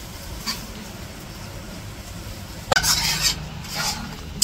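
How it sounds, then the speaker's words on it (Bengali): Vegetables stir-fry in a pan on a village kitchen stove, a low steady sizzle with a few sharp scraping clinks of a spatula against metal near the end. "এদিকে তো সবজি কষাইতেছে"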